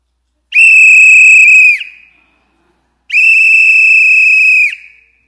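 Two long, shrill whistle blasts, each held steady for over a second, separated by a brief silence; loud and close.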